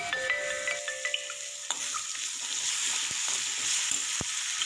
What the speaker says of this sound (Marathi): मसाला परतला यात हळद लाल मिरची पावडर घालून छान परतवून घेऊयात